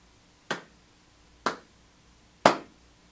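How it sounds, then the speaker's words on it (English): Three slow, deliberate hand claps spaced about a second apart, each sharp and close, with near silence between them. "That was a serious slow clap, not a sarcastic one."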